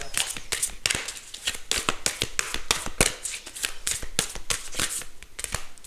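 A tarot deck is shuffled by hand close by, giving rapid, rustling riffles and card slaps in quick bursts that run continuously and are fairly loud, with no talking.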